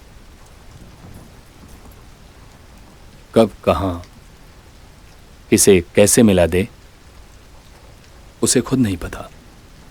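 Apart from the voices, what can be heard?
rain in Mumbai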